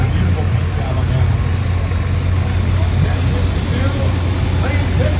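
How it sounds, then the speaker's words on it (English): A John Deere 4020 tractor rolls by in the Waterman Tractor Show Parade 2025 with a steady, low, rumbling engine drone, while a voice talks over it throughout. "Great looking tractor."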